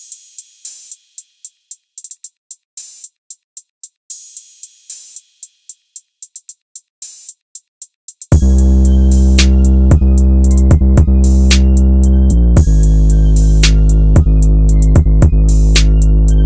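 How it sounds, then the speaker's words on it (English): Drum samples in a beat: crisp closed hi-hat ticks tap out a steady pattern alone for eight seconds, then an open hi-hat and a loud, washy crash cymbal come in and ring on under continued hat hits. "We have a closed hat, an open hat, and a crash sample."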